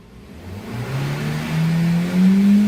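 A car engine revs with the RPM rising and falling, its tone climbing steadily and growing louder toward the end, heard alone at close range. The car has long cranking, a rough idle, hesitation, poor acceleration and high fuel consumption.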